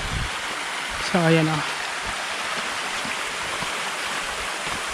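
Water rushes at a small river waterfall running low, a constant broad hiss of flowing water, while someone speaks briefly over it.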